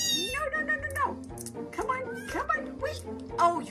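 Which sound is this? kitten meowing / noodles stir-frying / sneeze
kitten meowing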